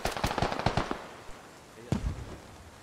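Rapid bursts of mini machine gun fire in the military shooter game SquadOps, a quick string of sharp pops followed by a lone later shot, with faint voice traces underneath.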